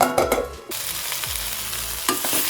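Raw banana slices sautéing in a frying pan, with a soft sizzle and a few scraping stirs of a spatula, heard up close and without talk.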